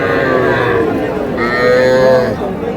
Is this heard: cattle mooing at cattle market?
yes